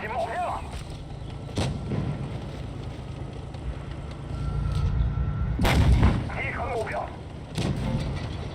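Video game gunfire cracks in a few sharp, loud bursts spaced several seconds apart amid a pincer firefight, with a steady background rumble and players talking over it.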